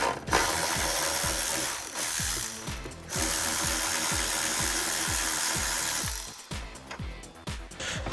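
7mm ratchet turning to loosen a hose clamp on a 2015-2017 Ford Mustang V6, clicking in rapid, close repeated strokes with a brief pause partway through.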